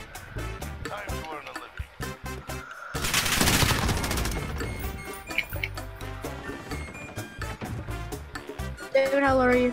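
Call of Duty gunfight: bursts of rapid automatic gunfire with a heavy sustained volley in the middle, mixed with game effects and excited players talking over the shots.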